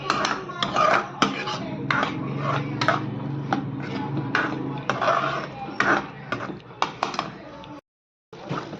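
Corn masala spice paste sautéed in a pan, with repeated scraping and tapping of a spoon against the pan over a soft steady sizzle, close and fairly loud, a voice talking now and then.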